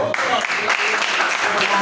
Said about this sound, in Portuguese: Agradeço a oportunidade, as palmas ao Senhor